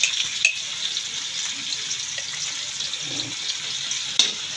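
Bagoong shrimp paste sautés in a pan for pakbet, giving a soft, continuous sizzle with a few scrapes and clicks of stirring, close and moderately quiet.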